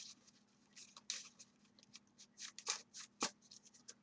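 Deck of Yu-Gi-Oh trading cards being shuffled by hand, a quiet, close run of soft riffling and flicking bursts in irregular rhythm, with no talking.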